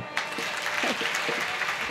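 Audience clapping during a Marathi kirtan devotional sermon, a dense continuous patter of many hands that swells in quickly and holds steady, fairly loud and close, with no talk over it.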